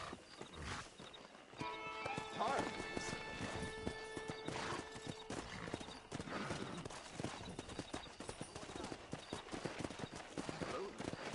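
Video game sound from Red Dead Redemption: hooves clip-clopping in a rapid galloping rhythm with a horse whinnying, mixed with thuds and someone talking over it.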